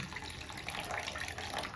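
Steady rushing of about half a glass of water being poured into a pan of vegetables, a continuous splashing hiss at moderate level with no talking.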